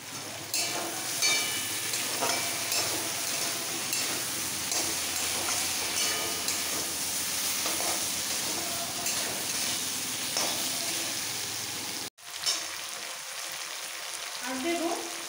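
Spiced vegetables sizzle steadily in hot oil, cooked down with red chilli powder for a Bengali rohu fish curry with winter vegetables. A constant loud frying hiss with occasional stirring clinks runs throughout and cuts out briefly near the end.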